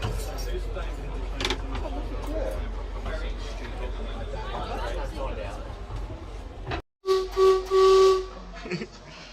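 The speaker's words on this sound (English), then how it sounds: "a chance to press the whistle" After a stretch of background chatter and rumble, the whistle of a vintage 1938 Stock London Underground train blasts loudly in a few long, tonal bursts.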